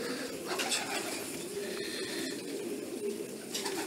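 A racing pigeon coos softly and repeatedly from close by in a breeder's loft, a steady low throaty murmur lasting several seconds with faint clinks in the background.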